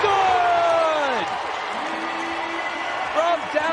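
A basketball crowd cheers and applauds loudly after a three-pointer at a TBT tournament game, with the roar fading partway through, faint squeaks and a commentator's voice running over it.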